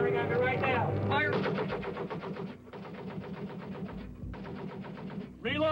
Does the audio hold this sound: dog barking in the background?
no